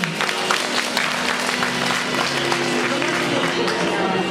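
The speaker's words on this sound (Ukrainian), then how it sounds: "Оплески!" A lyceum audience at a school beauty pageant breaks into loud, continuous applause, thick overlapping claps filling the hall at a steady level with some crowd noise underneath.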